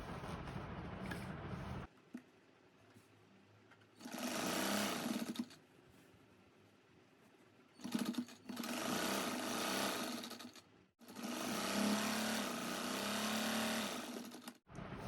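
A sewing machine stitches salwar fabric in close, fast whirring runs, with three long bursts separated by short pauses and no speech.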